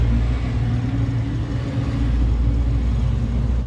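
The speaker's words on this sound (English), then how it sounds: "Rare Hino Super Dolphin Dump Truck." A rare Hino Super Dolphin dump truck gives off a steady, close, low engine rumble that holds evenly throughout, with no voices.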